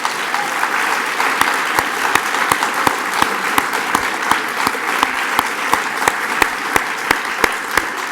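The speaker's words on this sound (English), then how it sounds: "So I would just like to give her a big round of applause." An audience gives Maria a round of applause at a London community event, with many hands clapping in a steady, sustained ovation and a few sharp, louder claps standing out throughout.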